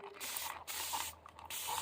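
A spray bottle misting paint inlay on a cabinet with three bursts of close, hissing spray separated by short pauses.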